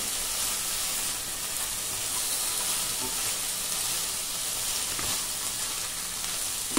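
Broad beans frying in hot oil for a bean curry, an even, close crackling sizzle that holds steady for the whole stretch with a few faint clicks.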